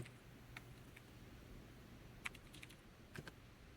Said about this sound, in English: Let's type banana in all caps.